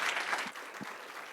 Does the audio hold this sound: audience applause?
yes